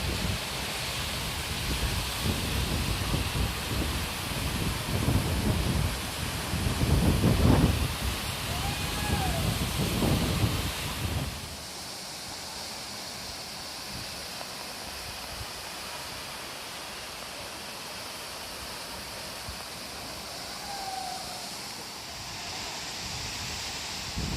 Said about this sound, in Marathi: हा धबधबा पूर्ण मोठा आणि चांगला आहे